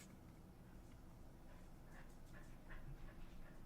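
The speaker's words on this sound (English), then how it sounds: "Okay, dogs are barking at stuff." Several dogs barking and yipping faintly in the background of a quiet indoor room, a few soft, scattered calls heard at a distance.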